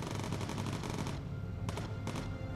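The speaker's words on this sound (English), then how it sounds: "Where is this guy shooting?" Enemy aircraft guns fire in the video game Bomber Crew as a dense, loud burst of rapid automatic gunfire, followed by two shorter staccato bursts after a brief lull.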